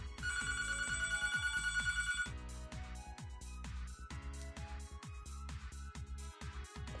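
A telephone in Hatoful Boyfriend rings in a steady electronic trill for about two seconds over rhythmic game music, then cuts off while the music carries on alone.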